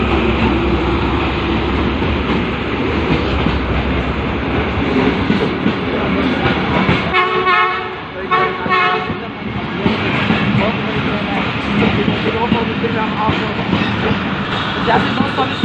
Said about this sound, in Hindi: देखिए ट्रेन बिल्कुल आ गई है।